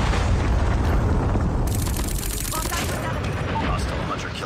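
A thrown bomb in the shooter Free Fire detonates as a loud, rolling blast, mixed with rapid gunfire that runs right through the clip, with no clear talk.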